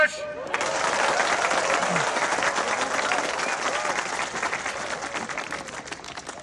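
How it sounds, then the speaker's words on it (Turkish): A crowd bursts into loud, sustained applause, many hands clapping steadily for several seconds. "Alkış!"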